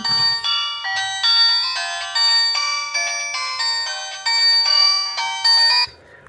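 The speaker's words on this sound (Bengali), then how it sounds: "ফোনটির রিংটোন যে অপশনটা সেইটা একটু চেক করব যে ফোনটিতে রিংটোন কেমন ছিল" A bright electronic ringtone from a TCL button phone plays a repeating melodic chime pattern, loud and clear, stopping abruptly near the end.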